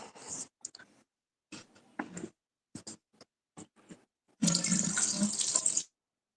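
Tap water runs into a sink while someone waits for it to warm up, first in short broken splashes and then in a louder steady stream of close splashing near the end.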